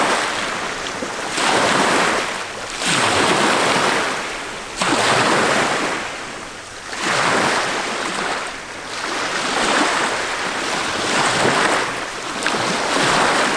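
Water of the Hudson River washes in slow, rolling surges at about two-second intervals, close and full, with a constant breezy rush behind it and no talking.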